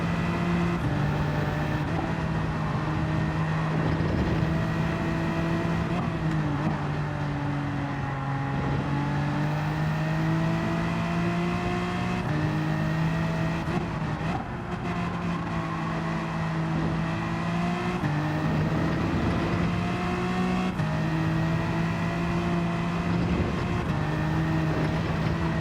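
A BMW race car in Gran Turismo 7 drives with a steady, loud engine drone throughout, its pitch rising and falling with gear changes and throttle, with no talking over it.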